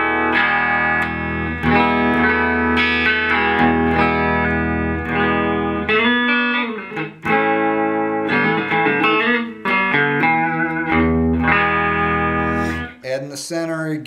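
An Electra Westone Phoenix electric guitar with its pickups switched to single-coil mode plays a run of loud, bright strummed chords and picked notes through effects, with brief gaps between phrases and no talking.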